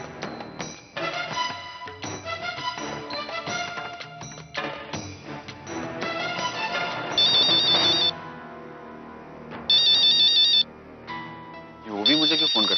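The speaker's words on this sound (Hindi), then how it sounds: "वो भी मुझे क्यों फोन कर रही है?" A phone ringtone chimes in short repeated bursts over background music, with a voice heard early on.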